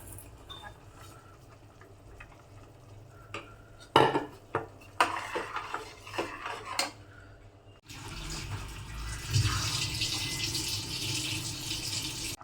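Rice goes into a pot of boiling water for a green gram pulao: first a few sharp clinks and clatters of pot and utensil, then a sustained rushing, bubbling boil takes over and continues steadily to the end.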